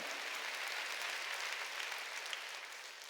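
Congregation applause during a Sunday church service, a soft, steady patter of clapping hands heard from a distance, continuous for a few seconds with no voices over it.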